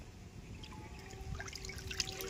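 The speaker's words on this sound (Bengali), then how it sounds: "পরিমাণ মতন সাদা তেল দিয়ে দেবো" White cooking oil poured into a hot karahi gives a soft, steady trickle that stays faint and close throughout, with no voices.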